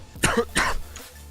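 Two harsh coughs in quick succession, close and fairly loud, then a faint trailing breath against low background hum.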